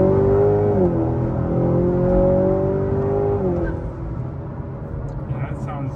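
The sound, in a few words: 2019 Honda Accord 2.0T engine revving with closed intake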